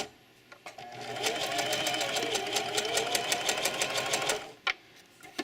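A sewing machine stitches along the edge of a small fabric drawstring bag, running in one steady rapid burst of clattering needle strokes for several seconds, close and loud, then stopping.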